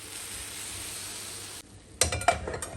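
Cooled syrup poured over hot walnut baklava fresh from the oven gives a steady soft sizzle, which cuts out and is followed by a few close clinks and scrapes of a pan.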